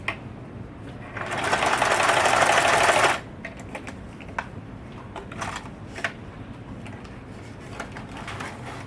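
Sewing machine stitching a test seam on scrap fabric, a loud close buzzing run of about two seconds, then quieter clicks and small handling taps.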